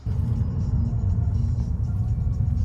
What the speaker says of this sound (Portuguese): Não sei que marca que é esse carro, mas é elétrico